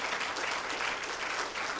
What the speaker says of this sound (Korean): 힘찬 박수 한번 부탁드립니다.